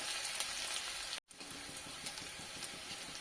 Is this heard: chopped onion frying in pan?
yes